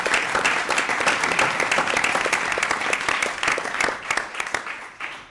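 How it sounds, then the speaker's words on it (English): Applause from a city meeting audience honoring the municipal finance department, a steady dense clapping that holds for several seconds before thinning out toward the end. "I'd like to give a round of applause to our finance."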